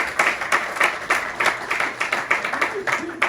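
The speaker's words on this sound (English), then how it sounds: "Give me a round of applause, please." Audience applause rings out at an actor's book launch, a steady wash of claps with regular loud bursts over about three seconds, fairly close and filling the room, with some voices mixed in.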